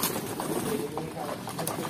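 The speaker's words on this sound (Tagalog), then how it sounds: "Ang bait ng kalapati mo." A pet pigeon coos softly near the mic, low soft calls repeating under quiet talk.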